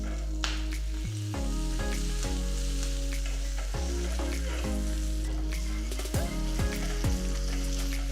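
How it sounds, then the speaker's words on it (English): Mustard seeds, lightly pounded garlic with skin, red chilies, asafoetida and curry leaves temper in hot oil, a loud dense close sizzle with crackling pops and a few stirring knocks throughout, no talking. "Once the mustard seeds start crackling, add 2 cloves of garlic with skin."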